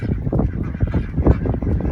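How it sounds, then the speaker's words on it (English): A flock of homestead ducks quacking and honking in dense, overlapping calls, loud and close, with no voices over them. "Some good looking ducks."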